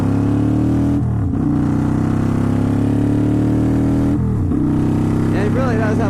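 A Kawasaki Vulcan 800 cruiser motorcycle rides at highway speed, its engine a loud, steady droning rumble with two brief dips and recoveries in pitch.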